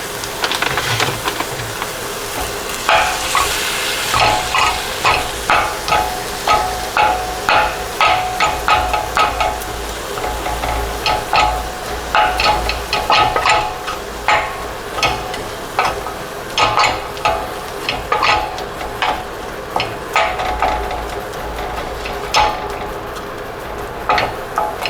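A vegan dish sizzles and cooks together in a pan, a steady fry punctuated by frequent clicks and scrapes of stirring with a utensil, close and continuous.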